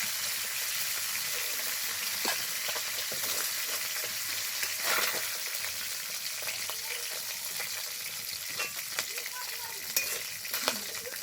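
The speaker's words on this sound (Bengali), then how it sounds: "মাছের মাথাগুলো খুব ভালোভাবে ভেজে নিয়েছি" Fish heads fry in a wok of hot oil with a steady, close sizzle and crackle, broken now and then by sharp spatters and the light clink of a utensil stirring, with no voices.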